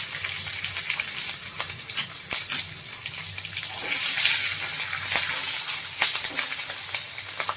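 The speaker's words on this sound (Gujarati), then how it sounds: "હવે આપણે એમાં મીઠા લીમડાના પાંદ એડ કરી દઈશું હિંગ એડ કરી દઈશું અને મરચાં એડ કરી દઈશું" Curry leaves, asafoetida and chillies sizzle in hot oil while a Gujarati kadhi is being made, a steady crackling fry with a brief louder burst of spitting midway, close and continuous throughout.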